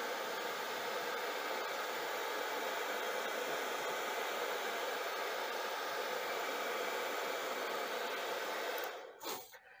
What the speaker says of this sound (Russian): Включаем фен.